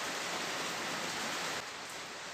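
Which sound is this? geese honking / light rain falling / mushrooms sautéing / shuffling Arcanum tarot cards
light rain falling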